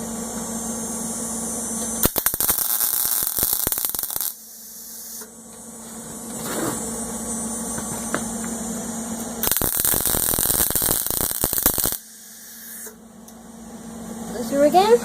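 Arc welding a patch panel onto a car door, with loud crackling, hissing bursts of a few seconds each between quiet pauses and a steady hum underneath.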